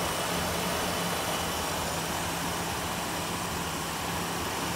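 A Mazda RX-7 rotary engine idles roughly with a steady drone at a constant pitch, with a broad hiss and a low hum running throughout without change.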